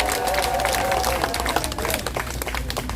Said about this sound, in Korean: 이제는 박수 한번 쳐야 된다